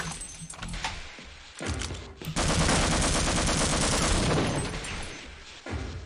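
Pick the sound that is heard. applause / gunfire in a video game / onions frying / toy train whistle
gunfire in a video game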